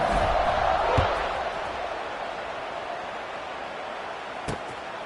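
A stadium crowd roars steadily at kickoff in the College Football 26 video game, a broad sustained wash of cheering with a couple of sharp thumps, loud and continuous throughout.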